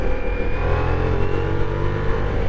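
A Ducati Diavel motorcycle engine revs loudly and close, a dense, steady roar held for a couple of seconds with no pauses.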